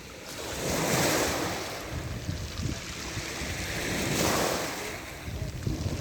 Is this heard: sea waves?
yes